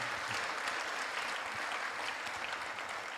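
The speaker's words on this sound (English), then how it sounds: "Can we give a big round of applause to them?" An audience applauds the cooking team at a Sunday temple program: dense, continuous clapping from a crowd, fairly distant and even, with no pause.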